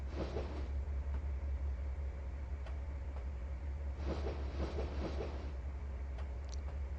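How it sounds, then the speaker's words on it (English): A long, heavy freight train rolls along in the Trainz 2019 railway simulator, with a steady low rumble and scattered clicking rail-joint sounds that bunch up midway. "So Thomas is driving in at a reasonable speed. He's got a long train"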